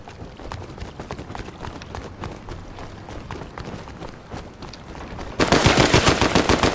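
Gunfire in Fortnite Zero Build: rapid, evenly spaced shots crackle throughout, growing louder and denser in a heavy burst near the end.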